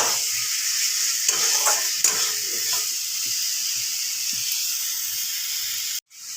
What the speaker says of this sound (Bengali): মশলার কাঁচা গন্ধটি যখনই চলে যাবে তখনই দেখবেন যে সুন্দরভাবে ভাজা হয়ে গেছে মশলা।